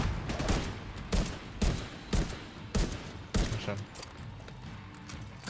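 Gunfire in The Division 2, a steady series of loud, close shots spaced about a second apart with a faint tail after each, over quiet background.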